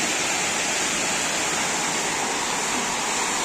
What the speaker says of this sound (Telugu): వాటర్ చూడండి ఎట్లా వస్తున్నాయో హోల్ పడ్డట్టున్నది చూడండి అలా పక్కకు హోల్ ఉంది హోల్లోకి వెళ్ళి కారుతున్నాయి వాటర్